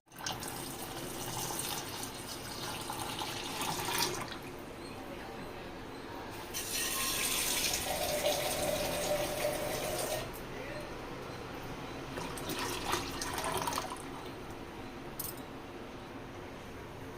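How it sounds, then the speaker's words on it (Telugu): Half a litre of water is poured into a cooking pot for Madras charu, a Telugu tamarind soup. The pot already holds tamarind and curry leaves, and the pour comes as several steady splashing bursts, close by, with quiet pauses between them. "ఇప్పుడు దీంట్లో మనం 1/2 లీటర్ వాటర్ వేసేయాలి"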